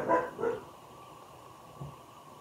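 A dog barks twice in quick succession, fairly faint and somewhat distant indoors, followed by a softer third bark after a pause.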